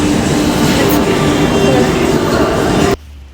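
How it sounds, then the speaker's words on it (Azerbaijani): Steady loud rumble of a metro train running in Baku, a continuous mechanical roar with faint voices underneath, cutting off abruptly near the end. "İndi metronu gözləyirəm."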